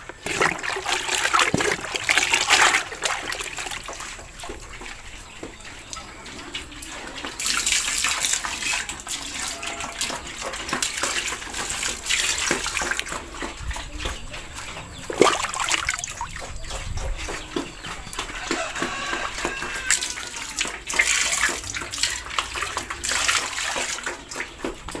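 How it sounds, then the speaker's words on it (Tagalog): Water pours steadily into King's Vita Plus pig feed inside an old pig pen, a continuous splashing trickle that swells and eases in waves over the whole stretch, close by, with no talking. "lagyan natin ang King's Vita Plus na may tubig"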